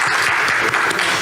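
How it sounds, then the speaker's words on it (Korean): Congregation applauding during a Friday prayer service sermon, a dense, steady wash of many hands clapping at close range throughout. "박수 쳐주세요"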